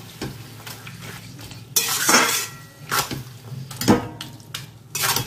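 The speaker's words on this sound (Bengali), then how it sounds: "এবার আমি ভালো করে এটাকে মিশিয়ে নেবো মশলাগুলোকে।" Spices being stirred into a taro leaf dish in a pan: scraping and clinking of a utensil against the pan over a soft sizzle of frying, in irregular bursts, close and fairly quiet.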